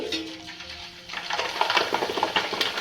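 Betel leaves dropped into hot oil in a pan for homemade hair oil: a quiet start, then a steady crackling sizzle with light stirring that grows busier, close and moderately loud.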